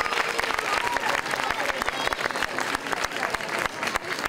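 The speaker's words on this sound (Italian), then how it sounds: "Accompagniamo questa uscita ancora con un applauso." An audience at a wedding dress fashion show applauds steadily for about four seconds, a dense patter of many hands clapping at close range.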